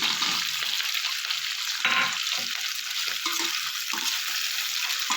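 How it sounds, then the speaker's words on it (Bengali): Chopped onion and capsicum frying in a pan with a continuous close sizzle and occasional stirring sounds, no speech over it. "পেঁয়াজ আর ক্যাপসিকামটা ভাজা হতে"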